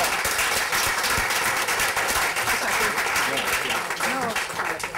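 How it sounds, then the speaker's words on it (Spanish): A large audience at a blogging conference in Getxo claps loudly and continuously, a dense wall of applause with a few voices underneath. "el aplauso para Jairo, hombre, no se va a quedar sin su aplauso."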